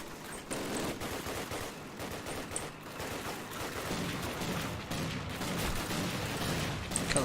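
Rapid automatic gunfire rattles continuously at a tank in the Call of Duty video game, dense bursts of shots layered over booming battle noise throughout.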